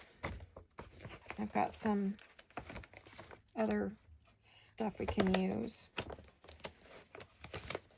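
Rummaging through a pouch of craft papers, crinkling and rustling of paper and plastic in bursts, close and soft, between stretches of someone talking.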